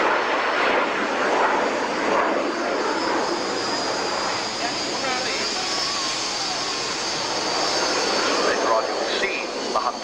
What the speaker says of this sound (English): Chris Bellhouse, Martin Sergeant, showing us what a delightful and manoeuvrable aircraft the Harvard is.